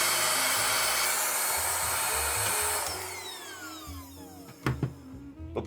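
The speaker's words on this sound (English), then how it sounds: "Let's just vacuum up what we can" A vacuum cleaner sucks debris from inside a roach-infested PS3 console, a loud steady whine that winds down and fades out partway through, followed by a few sharp clicks and knocks.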